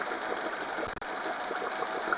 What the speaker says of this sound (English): This is the idling, and I hope this is the good idling speed.